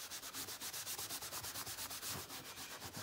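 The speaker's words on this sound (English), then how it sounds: "using a fine scouring pad and just virtually sanding it like this" Steady, rhythmic scrubbing of a fine scouring pad rubbing back and forth across dyed leather, close and continuous, with no talking.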